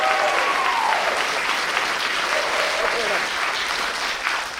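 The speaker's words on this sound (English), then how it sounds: "we can clap for it" Audience applause at a comedy show, a full room clapping steadily, with brief cheering voices rising over it before it tapers slightly.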